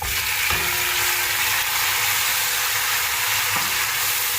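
Tomatoes go into a pan of browned onions for beef pulao, setting off a loud, dense, steady frying hiss close up, with a couple of brief stirring knocks beneath it.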